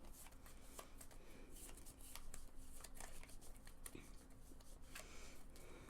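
Cards from the Pandemic Legacy Season 2 board game are shuffled by hand at close range, with a quiet, continuous riffle of rapid papery clicks and no talking.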